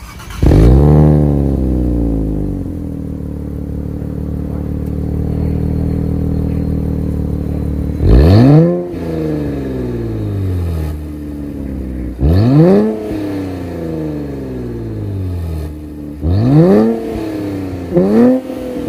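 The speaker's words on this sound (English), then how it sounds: "let's fire up this 3-liter twin turbo V6 and hear how she sounds." A 2024 Nissan Z Nismo's 3-liter twin turbo V6 starts with a sharp rev, settles into a throaty idle, then is blipped hard several times, each rev rising quickly and dropping back.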